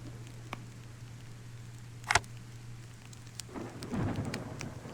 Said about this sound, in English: I like the storm effects